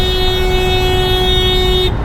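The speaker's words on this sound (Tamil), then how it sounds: "ஏன்டா ஹார்ன் அடிக்கிற?" A loud, sustained car horn blares in heavy Mumbai traffic during rain, one long unbroken honk held close by for almost two seconds before it cuts off sharply, leaving the road noise underneath.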